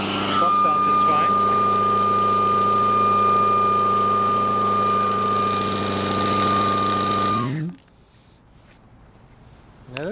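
An Agilent Varian TriScroll PTS 600 dry scroll pump with inlet valve, 115 V, runs with a loud, steady drone and a high whining tone close by. It cuts off sharply near the end, leaving near silence.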